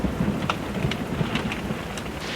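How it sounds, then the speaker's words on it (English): Steady rain with thunder during a warm, muggy summer night storm in Croatia, broadband hiss continuous throughout and a few brief rumbles and crackles rising through it. "I think we've got a bit of a storm inbound."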